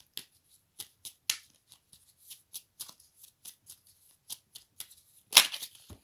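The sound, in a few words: tarot cards being shuffled, flipping over and falling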